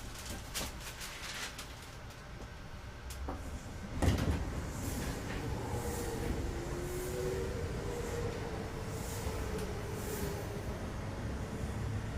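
Kintetsu Nagoya Line train running between Kintetsu Nagoya and Kintetsu Tomida, heard from inside as a steady rolling rumble with a sharp clunk partway through, then a rising and falling whine over the continuous track noise.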